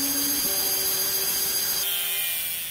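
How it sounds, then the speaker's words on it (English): Cutoff tool slicing through a machete blade during a conversion into a naval cutlass, a continuous high whining grind whose pitch steps slightly as the cut progresses, close and steady with no voices. "Use the cutoff tool, but be careful not to overheat the metal."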